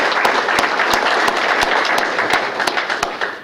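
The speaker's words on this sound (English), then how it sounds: "Let's have a round of applause for those." Audience applause at a mayor's awards ceremony for city employees, steady clapping from a roomful of people with a few sharp, distinct claps standing out at a regular beat.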